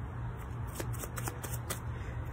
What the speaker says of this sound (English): I could give the cards a shuffle